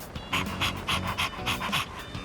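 A dog pants in quick, steady rhythmic breaths inside the video game Persona 3 Reload, close and fairly loud with no talk over it.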